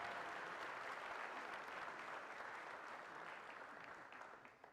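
Audience applause at a city address event for a band's glee club, a dense, even wash of clapping heard at a distance that fades slightly toward the end.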